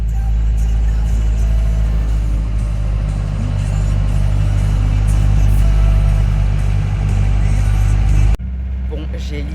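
A motorhome crawls along narrow, winding roads on a France–Italy trip, its engine droning steadily and loudly close by, with speech over it and a quieter, thinner stretch of engine noise near the end.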